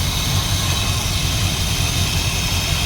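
A 1977 Dodge Adventurer D150 pickup with a 440 big block V8 idles close by, a steady, dense low rumble with constant hiss and no change in pace or level from start to finish.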